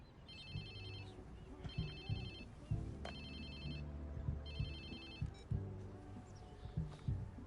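Phone ringing in the video game Watch Dogs 2, repeated electronic trill bursts in a regular pattern over a low, rumbling game soundtrack with thuds, no speech.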